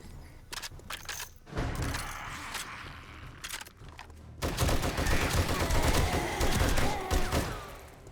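Bursts of automatic fire from a drum-magazine gun in 7 Days to Die Alpha 21, scattered short volleys early, then a heavier sustained stream of shots, close and fairly loud.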